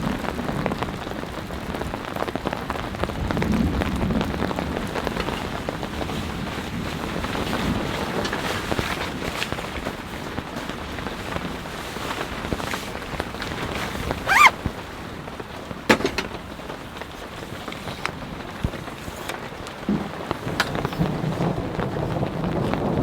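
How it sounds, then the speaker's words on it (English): Steady rain dripping off forest trees onto a tarp after a heavy downpour, a dense continuous patter with a few louder drop impacts, close by and alone with no talk. "It's all the rain falling off of the trees that's landing on the tarp."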